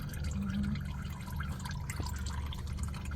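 Engine oil drains from a 2011 Honda Fit into a pan, heard as a quiet steady trickle and faint dripping against low background rumble.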